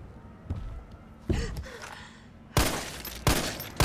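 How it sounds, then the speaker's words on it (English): Gunfire in the video game Resident Evil 3, heard as several loud, close shots at uneven intervals with hard bangs and short decaying tails, mixed with game effects and a growling creature. "I don't think shooting it will help."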